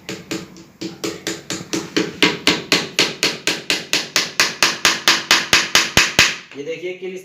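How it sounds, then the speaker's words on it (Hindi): Steady, evenly spaced hammer blows drive a nail into a wooden screen printing frame, about two dozen loud sharp strikes in quick rhythm, close up, with no talk, ending in a short rattle. "तो यहाँ पे मैं कील गाड़ देता हूं।"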